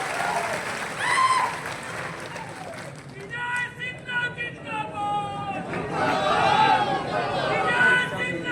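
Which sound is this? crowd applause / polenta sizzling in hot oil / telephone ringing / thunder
crowd applause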